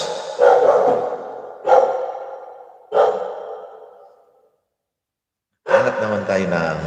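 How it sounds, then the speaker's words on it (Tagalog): A house dog barks in loud, separate bursts, three sharp barks with ringing tails and then a longer, rougher outburst after a short silence, all close. "Ayan, nagalit na naman yung aso ko."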